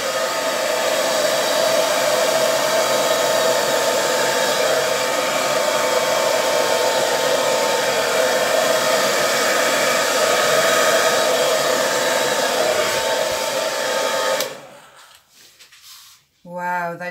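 A hair dryer blows air over an acrylic paint pour with an iridescent gold base, a loud steady roaring whoosh held for about fourteen seconds before cutting off, followed by brief softer bursts.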